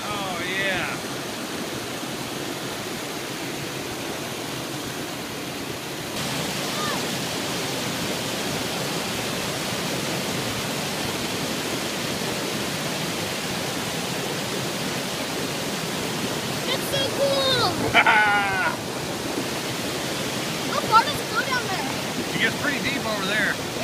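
A waterfall on the Guadalupe River roars as a steady broadband rush throughout, heard from a raft on the river, with faint clicks and knocks near the end.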